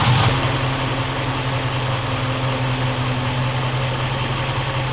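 A Jeep Grand Cherokee with a 4.7L engine and an electric fan idles steadily, a close and continuous low rumble with a fan's whoosh blended in and no other sounds.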